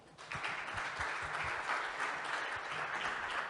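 Steady audience applause fills a conference hall at a wearables event as a speaker is welcomed, a dense, continuous clapping that swells quickly and holds at an even level throughout.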